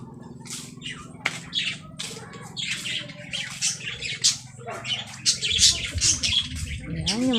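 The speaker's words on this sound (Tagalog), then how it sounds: "Tapos meron po sila ditong mga ibon." Many birds chirp and squawk nearby in overlapping, busy calls over a low steady hum, growing louder and denser toward the end.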